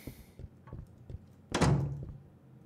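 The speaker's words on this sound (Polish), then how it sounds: "Tam się drzwi otworzyły u góry" An upstairs door opens in the puzzle video game Last Will: a few soft knocks, then a loud, resonant thud that trails off, with no talk.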